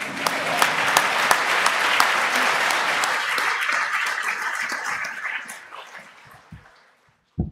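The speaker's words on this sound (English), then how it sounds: "Applause, please." Audience at a London School of Economics talk applauds after mention of Greece legalizing same-sex marriage: dense, steady clapping that gradually thins and fades to near silence, followed by a brief sharp sound at the very end.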